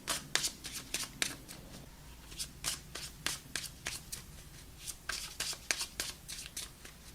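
Tarot cards being shuffled by hand for an outcome reading, a close, quiet run of crisp riffling bursts repeating steadily with no talking.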